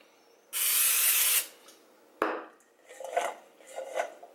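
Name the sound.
cooking spray sprayed onto green beans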